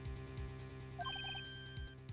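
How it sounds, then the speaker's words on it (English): A short electronic ringtone from Phoenix Wright: Ace Attorney chirps a few quick beeping notes over the game's steady background music, standing out clearly for about half a second. "I heard a phone ring just now, one of those newfangled ringtones."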